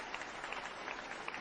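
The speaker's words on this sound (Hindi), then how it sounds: "सभी के नाम से जोरदार ताली होना चाहिए" An audience claps loudly at a motivational business gathering. The clapping is faint and distant, a quick patter of overlapping claps that runs steadily from start to end.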